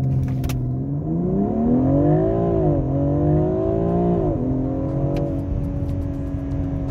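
A 2019 BMW X4 M Competition rated at 510 hp accelerates hard from a standstill toward 100 km/h. The engine note rises in pitch, dips at a couple of upshifts and climbs again, loud and steady throughout, with no voices.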